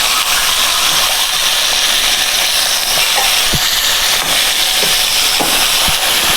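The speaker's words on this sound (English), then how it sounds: "pan pretty hot so it's a nice brown sear on the meat" Veal sears in a very hot pan with a loud, continuous, close sizzle that stays dense from start to finish, broken only by a few faint knocks.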